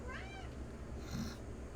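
A single short cat meow rises and falls at the start, fairly faint over a low steady background hum.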